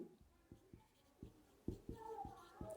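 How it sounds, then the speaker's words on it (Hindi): A teacher writes quickly on a board, making a faint, uneven run of sharp taps and short strokes. "फटाफट मैं यहां लिखता हूं"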